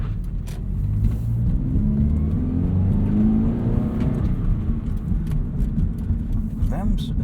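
A car spins donuts on the road as its engine holds a loud, steady rev and warm performance tires squeal and scrub, with a voice talking over it.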